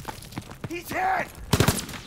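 Gunfire from a PS4 video game, a few sharp bursts scattered through the clip under a man's raised, agitated voice and groans.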